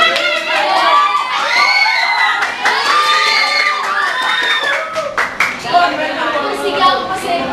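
A crowd of children and adults shouts and cheers loudly, with clapping mixed in and overlapping voices rising and falling continuously over several seconds.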